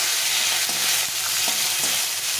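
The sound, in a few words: asafoetida and slit green chillies frying in oil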